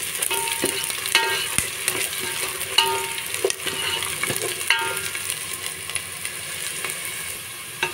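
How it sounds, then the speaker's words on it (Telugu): Chopped onions frying in a pan toward golden brown give a continuous, close sizzle. Frequent sharp scrapes and taps from stirring run through it, with no voices. "అందులో కట్ చేసిన ఉల్లిపాయలు, ఇది గోల్డెన్ బ్రౌన్ కలర్ వచ్చేంత వరకు వేయించుకొని"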